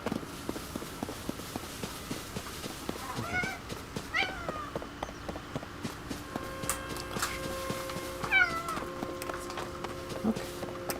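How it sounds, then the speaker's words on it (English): A house cat meows several times in short rising calls, close but fairly soft, over a background of video game sounds with music tones and footsteps. "That's my cat."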